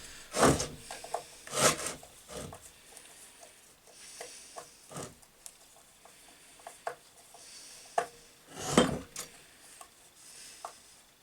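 Screws being worked loose on a Lidl Parkside PMB1100 metal-cutting bandsaw during a blade change, giving scattered faint clicks and scrapes with a few sharper knocks near the start and end.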